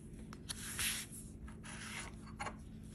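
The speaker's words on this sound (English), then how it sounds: "Gonna slide it up and start scratching" Close, steady scratching of a coin or edge across a Florida Gold Rush Limited lottery scratch-off ticket, a continuous rough rubbing with short louder strokes and no talking.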